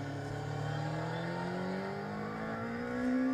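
A racing engine revs in first gear through a chicane, its pitch climbing steadily and holding a high, even whine at moderate distance, with no voices.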